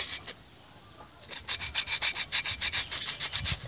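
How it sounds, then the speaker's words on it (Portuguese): Rhythmic scratchy rubbing of fine sandpaper on a plaster piggy bank, quick back-and-forth strokes close up, starting after a short pause and continuing steadily. "e vai lixando aqui, ó"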